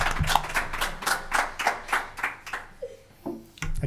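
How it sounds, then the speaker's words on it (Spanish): Audience at a live podcast recording at a comics festival claps for the team, a short burst of rhythmic clapping that fades out in under three seconds, followed by a brief voice. "darle un aplauso aquí al equipo Film Fan Fun"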